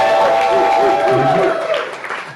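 Comedy club audience clapping and cheering for Pride Month during a stand-up set, a dense burst of applause and whoops that starts loud and tapers off over a couple of seconds, with crowd voices mixed in.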